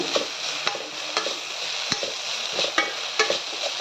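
Sprouted legume usli sizzles in hot oil in a pan, a steady crackling fry broken by repeated scraping stirs of a spatula at a regular, quick rhythm.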